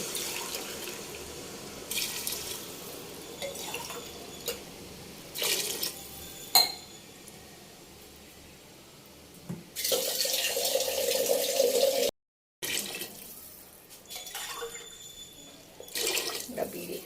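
Water is poured and runs into a pot for a homemade chicken biryani in a home kitchen, in several splashing bursts separated by quieter pauses.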